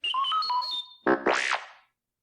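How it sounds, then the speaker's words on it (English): A robot droid chirps a quick run of electronic beeps and warbles, then a rising-and-falling whistling trill, close and clear with no talking. "You will know it is time to turn the page when you hear R2-D2 beep like this"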